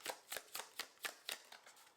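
Tarot cards being shuffled by hand, a rapid series of about nine crisp riffling bursts in a steady rhythm, close and fairly quiet with no talking.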